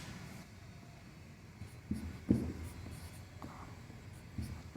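Chalk or marker strokes on a board during a maths lesson on continued fractions, a few short scratchy taps and scrapes, faint and fairly close, with no talking over them.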